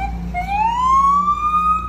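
A video-game police siren wails with a steady rising tone over a low engine rumble, fairly loud and continuous.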